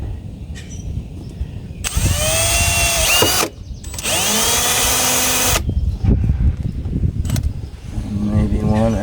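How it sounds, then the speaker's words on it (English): A power drill bores holes in the rusted floor pan of a Mercedes G Wagon, two long high-pitched whining runs close by with brief pauses and shorter bursts after, no talking. "I could get the drill in there"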